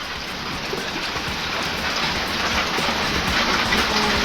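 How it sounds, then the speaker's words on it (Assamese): Rain falling during a storm in Darrang, a dense continuous wash of drops at fairly strong, even loudness, with no speech over it. "দৰঙত এই মুহূৰ্তত বৰষুণ হৈ আছে"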